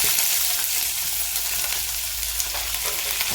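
Onion tipped into hot oil already holding mustard seeds and cumin for a restaurant-style okra gravy, giving a bright continuous hiss of frying with faint stirring, close and steady, no talk.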